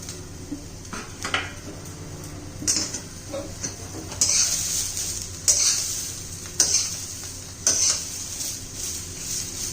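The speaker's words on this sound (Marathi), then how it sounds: "तेल न घालता भाजून घ्यायची आपल्याला" Cluster beans and chillies dry roasting in a pan without oil, with a soft, steady sizzle and repeated clanks and scrapes of a spoon against the pan.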